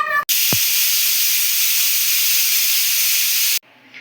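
A pressure cooker whistle opened on a pot of sambar, releasing a loud, steady blast of hissing steam for about three seconds that cuts off abruptly, with a brief quiet voice at the start.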